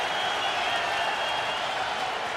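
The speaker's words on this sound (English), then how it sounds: "A great crowd today making some noise on 4th down." Continuous roar from a big stadium crowd making noise on fourth down during a Packers at Bills preseason football game, a loud, even sheet of cheering with a few faint claps.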